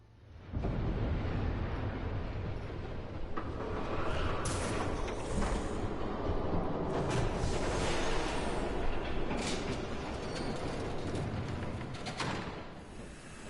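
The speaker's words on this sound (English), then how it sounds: "There's a train coming." A train approaches in a Telltale Batman game scene, a loud sustained rumble with rolling low roar and clattering bursts building over the whole stretch, no talking.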